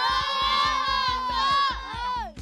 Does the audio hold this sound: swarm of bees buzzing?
no